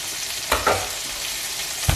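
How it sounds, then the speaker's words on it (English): Capers and olives sauteing in a pan for puttanesca sauce, a steady close sizzle with a few brief stirring scrapes and pops. "And we'll just saute those slightly."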